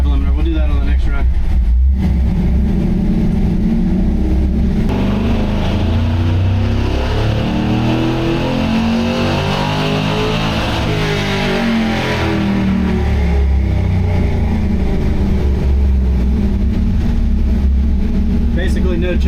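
An LS3 engine in a C10 pickup running a Holley Terminator X revs loudly during a tuning run. The pitch climbs and falls in a long sweep, and people talk over it.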